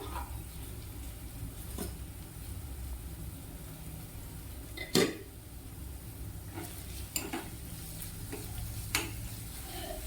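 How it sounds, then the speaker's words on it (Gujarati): Chopped onions cooking under a lid in a pan for instant masala noodles give a steady soft sizzle throughout, with a few brief clinks and stirring knocks, one louder near the middle. "તો ડુંગળીને બેથી ત્રણ મિનિટ માટે બફાવા દઈશું"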